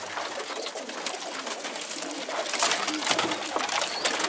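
Low pigeon coos rise from a noisy outdoor coop, with rustling and shuffling growing louder toward the end.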